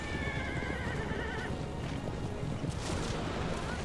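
Horse-drawn carriage in Assassin's Creed Revelations: a horse whinnies while hooves clip-clop and the carriage rumbles along under continuous in-game noise, fairly loud throughout.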